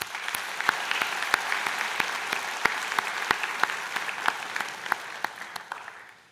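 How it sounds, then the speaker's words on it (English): Graduates of a skilled trades and apprenticeship program applaud at a Mohawk College convocation ceremony, steady crowd clapping with sharp individual claps standing out, sustained and fading slightly at the end. "so give yourselves a round of applause."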